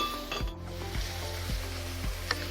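Chicken added to a pan of oil with browned garlic and salt sizzles steadily and up close, with regular stirring scrapes landing about every half second.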